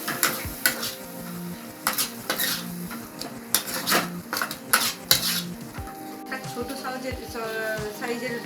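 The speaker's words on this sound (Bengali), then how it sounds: "আমি টমেটো পিউরিটা দিয়ে দিলাম, সেটাকেও মেখে ভালো করে মিশিয়ে নিচ্ছি।" Spoon scraping and clinking in a pan as tomato puree is mixed into chole masala, with irregular close metallic taps and a faint sizzle underneath.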